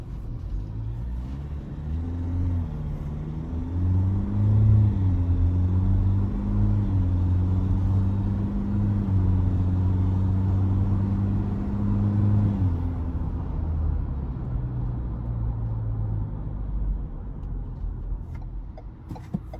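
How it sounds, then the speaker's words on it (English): A 2025 Ford Everest XLT is driven spiritedly on the road, its engine droning and rising in pitch over a steady low cabin rumble, with no talk. "But first, some spirited driving."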